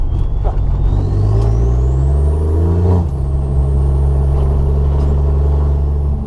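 A Land Rover Defender fitted with an M57 diesel engine and dual mass flywheel driving along a countryside road, the engine droning loudly inside the cab as revs rise, drop with a gear change, then climb again.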